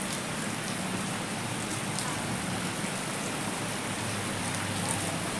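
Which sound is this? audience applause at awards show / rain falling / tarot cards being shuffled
rain falling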